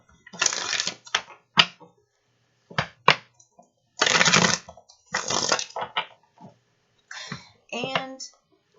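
Tarot cards are shuffled and drawn in a series of sharp, papery riffling bursts and flicks. The bursts come in uneven clusters with short pauses between them, close and fairly loud.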